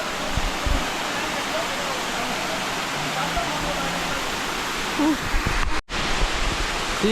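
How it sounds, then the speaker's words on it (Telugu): Constant roaring rush of the Katiki waterfalls in Araku fills the scene, loud and steady, with faint voices underneath and a brief dropout near the end. "వాటర్ ఫాల్స్ అయితే చాలా బాగున్నాయి ఫ్రెండ్స్"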